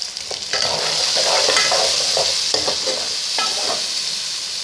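Fresh ginger paste fries in a pan, a steady sizzle with scraping stirs and small clinks of a utensil throughout, close and fairly loud with no voices.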